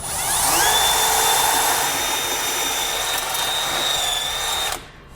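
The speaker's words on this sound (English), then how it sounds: "I'm going to drill a pilot hole all the way to the other side" A power drill whines steadily at high pitch, loud and close, boring a pilot hole through a metal frame on a 2018 Jeep, running continuously for several seconds before cutting off abruptly near the end.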